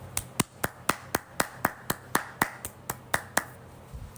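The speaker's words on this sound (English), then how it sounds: "Can we clap it up for Harry?" Clapping rings out as a quick, even rhythm of about sixteen sharp, close claps, fairly quiet overall and trailing off near the end.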